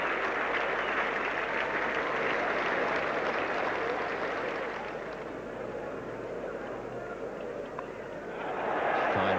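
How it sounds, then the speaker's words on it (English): A big crowd at a 1975 Cricket World Cup match in London between Australia and West Indies applauds a batsman with sustained, dense clapping that fades slightly midway then swells again, while a commentator talks over it. "he's getting a very good hand from this big crowd"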